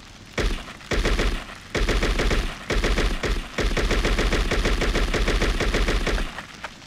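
Assault rifle gunfire in the video game True Crime: New York City: loud sustained automatic bursts broken by short pauses, each burst a rapid crackling run of shots.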